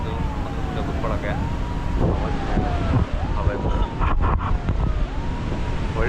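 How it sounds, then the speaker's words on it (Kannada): Sea waves and gusting wind at Malpe beach near Udupi make a loud, steady rush buffeting the microphone, with faint voices and tonal calls drifting in the background. "ಸಮುದ್ರದ ಅಲೆಗಳು, ಗಾಳಿ"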